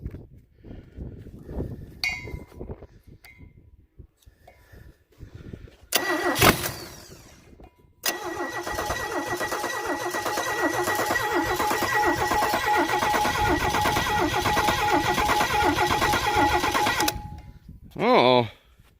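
An inline six Chevy engine cranks in short attempts and then catches. It holds a loud, steady, close running drone for about ten seconds before cutting off, with a brief burst after. A person speaks over the early attempts.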